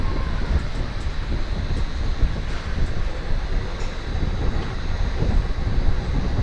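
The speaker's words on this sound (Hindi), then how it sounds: "train is डिपार्चरिंग from Pali Marwar railway station" Ranikhet Corbett Park Link Express, on its Jaipur to Jaisalmer run, pulling out of Pali Marwar railway station, with a dense, loud, steady rumble and roar of the moving train throughout and no talking.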